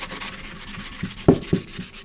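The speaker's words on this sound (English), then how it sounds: "So you're just going to take a sanding block" A sanding block rubs back and forth over a glitter-coated tumbler, producing a soft, continuous close-up scratching with a few sharper scuffs and knocks near the end, no voices.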